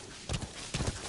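Horse hooves clip-clop in a few quick bursts of steps from D-Horse, the horse in the Metal Gear Solid V video game, moderately close and fairly quiet over a low background, with no talk.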